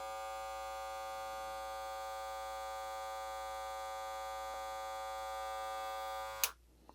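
A Wahl Super Taper X hair clipper with a brushed rotary motor rated at 6,500 RPM runs steadily with a strong whining buzz and rich harmonic hum, close and alone, then cuts off abruptly near the end.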